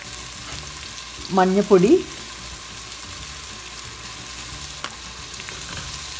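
Ingredients sautéing in a pan for Kerala-style puzhukku, a steady low frying sizzle throughout, with a short spoken word partway through.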